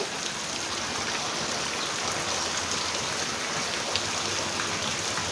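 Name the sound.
rainwater pouring out of a pipe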